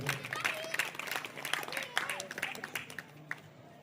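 An audience at a devotional Shiv Katha gathering in Valsad claps to welcome the harmonium and tabla accompanists, a brief scattered round of applause close by that thins out toward the end.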